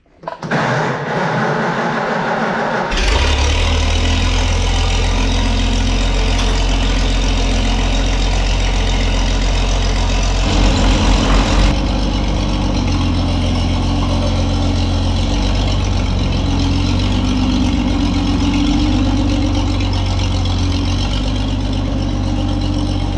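Tractor engine of the 77 with its mower idles steadily and loudly up close, a constant low rumble after a brief start, no talking.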